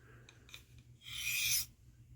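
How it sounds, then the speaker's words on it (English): A knife blade, a Pakistan-made knife, is drawn through a Work Sharp sharpener with a couple of faint gritty rasping passes, a few short scrapes followed by one longer, louder grinding stroke. "gave it a quick couple passes on my work sharp"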